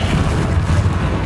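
Bombarda spell explosion in Hogwarts Legacy, a short, heavy low-end boom with a rumbling body that fills the whole moment and holds at a constant loudness.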